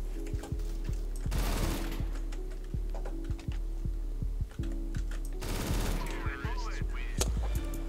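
Negev machine gun firing in CS:GO, a long rapid burst of sustained automatic gunfire with a steady thudding rhythm, loud and close, broken by a few brief pauses.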